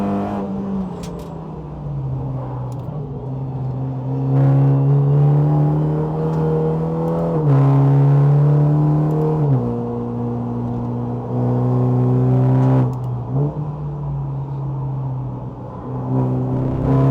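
A race-prepared Super GT production car at speed on a closed test track, its engine droning loud and close with rising pitch through the gears and several sharp shifts, continuous throughout.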